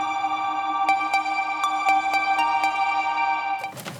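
Synth sequence from a Dreadbox Typhon synthesizer: a sustained bright, harmonically rich tone with rhythmic clicking pulses stepping through it, ending in a short noisy burst; no voices.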